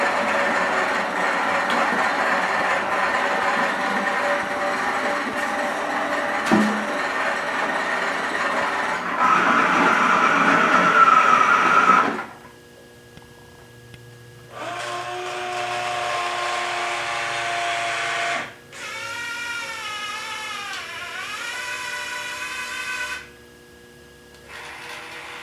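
An OmniBot 2000 toy robot runs through several bursts of motor whirring, first a long steady drone, then separated segments with pauses between them, one showing rising and falling gear whine, all close and loud.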